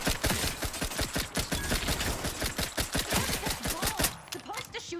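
Rapid automatic gunfire from a firefight in The Outer Worlds 2, a dense burst of closely spaced shots lasting about four seconds before it breaks off into quieter scattered sounds.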